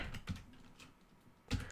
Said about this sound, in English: there's my typing today